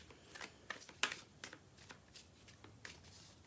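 Tarot cards being shuffled by hand, a series of soft papery riffles and flicks with one sharper snap, close and fairly quiet with no talking.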